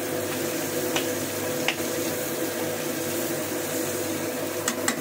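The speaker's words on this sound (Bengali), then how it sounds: "পেঁয়াজ কলিগুলো কিছু মা ভেজে নিয়েছে, দেখছি ভাজা ভাজা হয়ে গেছে পেঁয়াজ কলিগুলো" Onion stalks fry in a pan with a steady, dense sizzle that holds at an even level throughout, broken by a few faint clicks.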